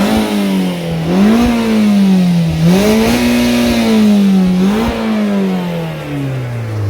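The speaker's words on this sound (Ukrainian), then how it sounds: "у нас в цьому автомобілі встановлено класичний атмосферний двигун, то він і по атмосферному крутиться до високих обертів" A Mazda MX-5 with a naturally aspirated engine revs repeatedly toward high rpm, around 7,500, rising and falling in several loud, close surges of a buzzy engine note with no talk.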